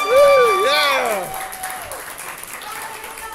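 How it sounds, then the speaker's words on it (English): An audience at an old west melodrama stage show applauds an actress, a steady wash of clapping beneath a loud, swooping whoop and excited cheering voices. "Give her a round of applause"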